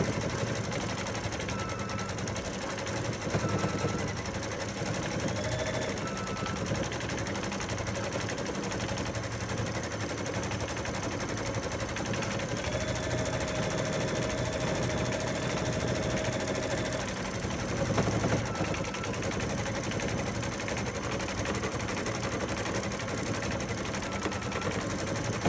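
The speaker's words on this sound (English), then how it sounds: "I don't know if you can hear the punk, punk, punk sound, but it sounds like my needle is starting to get dull." A sewing machine stitches a pieced pillow block with a dulling needle, its motor humming in a continuous even run with a faint repeated punching beat underneath.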